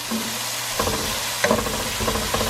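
A spoon stirs Kerala-style chicken curry in a hot pan, scraping and knocking over a steady sizzle of frying, close up and with no talk.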